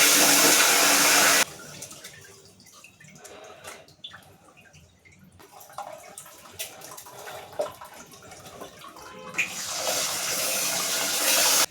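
Rice being washed in water for lemon rice: a loud gush of running tap water at the start and end, with quieter sloshing, swirling and drips in between, close by.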